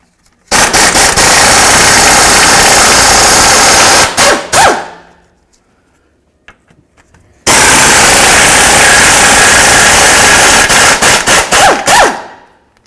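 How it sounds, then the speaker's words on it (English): Two long bursts of an air impact wrench or ratchet running a 10 mm socket on the sway bar bracket bolts at the differential of a 2007-2014 Cadillac Escalade, each loud whirring rattle ending in a few short stuttering pulses, with a pause between. "remove our mounting bolts that hold the brackets for the sway bar to the"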